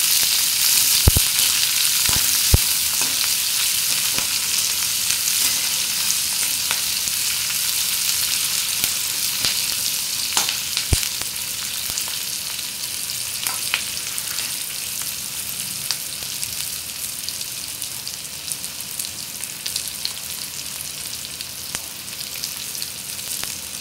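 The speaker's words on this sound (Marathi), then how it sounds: "कांदा जास्त सोनेरी रंगाचा होईपर्यंत भाजायचा नाहीये, थोडा अर्धा कच्चाच ठेवायचा आहे" Chopped onion frying in a pan for a Maharashtrian dal-kanda dish, a steady broadband sizzle that stays loud and even throughout, with a few sharp clicks from a utensil near the start and midway.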